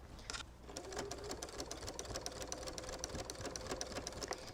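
Sewing machine stitching binding onto a quilt wall hanging, a steady rapid mechanical clatter of needle strokes running evenly at close range after a short pause at the start, faint and without talk.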